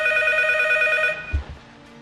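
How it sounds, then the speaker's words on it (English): In the horror game P.T., a telephone rings with a bright, repeating electronic bell tone for about a second, then cuts off abruptly, followed by a low thud and faint room tone. "causing the phone to start ringing"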